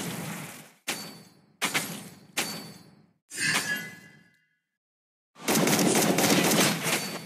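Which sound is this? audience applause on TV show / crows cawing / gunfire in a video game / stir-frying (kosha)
gunfire in a video game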